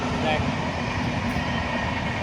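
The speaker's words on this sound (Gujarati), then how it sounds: "આ જો પેસેન્જર છે ગાડી રેલવે આપ જોઈ શકો" A passing passenger train rumbles steadily along the rails at close range, a continuous loud roar with a voice speaking over it.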